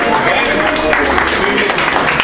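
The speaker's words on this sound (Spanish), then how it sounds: "muy bien, un aplauso." Applause from a church group audience, a steady, dense wash of clapping filling the whole moment, with voices mixed in underneath.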